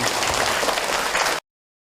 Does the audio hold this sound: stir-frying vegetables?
no